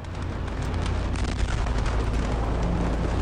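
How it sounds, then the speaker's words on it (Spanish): Ammonium nitrate explosion at a Beirut port warehouse, a dense continuous roaring rumble with no voices. "Tras un sonido chispeante, se produjo la primera explosión."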